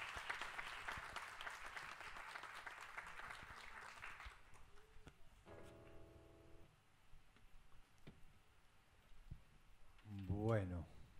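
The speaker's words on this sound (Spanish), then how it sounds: "Fuerte el aplauso." Applause from a concert audience at a live music show in a small hall, a dense clapping wash for about four seconds that fades, followed by scattered stage noises and tones.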